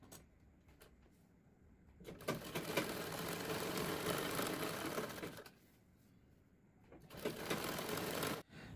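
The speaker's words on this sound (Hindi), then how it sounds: "फोल्ड करके इसके एक साइड हम यहाँ पे सिलाई लगाएंगे ताकि ये ऐसे ही जमी रहे" A sewing machine runs in two long, steady stitching bursts with a brief quieter pause between, sewing along one side of a folded fabric strip for a blouse back neck design.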